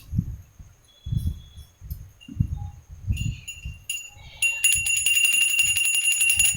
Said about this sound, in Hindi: इस तरीके से घंटी का वाद करके